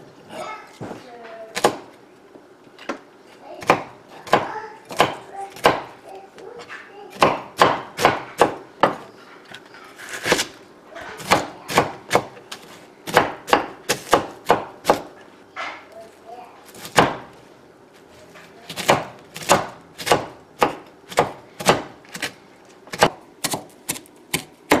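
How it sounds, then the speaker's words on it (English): Knife chopping fresh herbs on a wooden board for salmon cakes: a long run of sharp, close, loud chops in quick uneven bursts with brief pauses, no talk over them. "And then I'm going to chop up the herbs."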